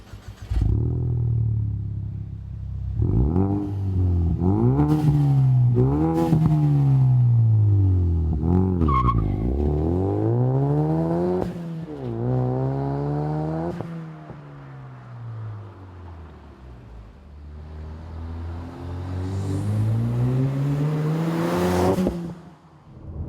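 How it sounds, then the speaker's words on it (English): A 2015-2023 Mustang Fastback EcoBoost with an MBRP 3-inch cat-back race exhaust drives on the road, loud and close, its deep exhaust tone rising and falling through repeated gear pulls and shifts. "The first thing you'll notice about the MBRP race system is how deep of a tone it is."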